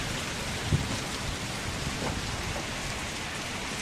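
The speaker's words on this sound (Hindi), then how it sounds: "मस्त बारिश हो रही है, दिल खुश कर दिया" Heavy rain pours steadily at Maadathil Resort in Varkala, Kerala, beside the beach and cliffs, making a dense, even hiss with a faint low rumble near the start.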